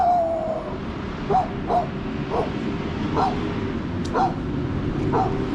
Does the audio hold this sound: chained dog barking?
yes